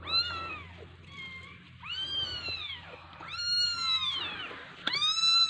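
A stray kitten abandoned at a market meows repeatedly in high, drawn-out cries, close by, with a low steady hum of the surroundings beneath and no talking.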